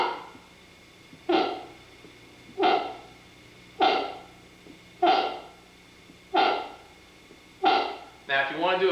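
Six rhythmic moose grunts on a reed call with the end cupped, evenly spaced nasal 'wah' bleats close up, ending in a quicker wavering call at the finish, with no talking.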